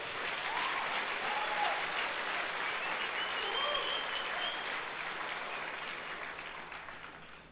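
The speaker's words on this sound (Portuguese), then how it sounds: "Você não quer dar um aplauso a Jesus por isso?" A church congregation at a Sunday service breaks into sustained applause, a wash of many hands clapping at moderate distance that slowly fades near the end.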